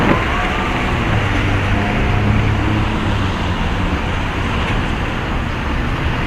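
Street traffic with cars turning, a steady broadband roar of passing vehicles and engine rumble, loud and continuous, without any voices.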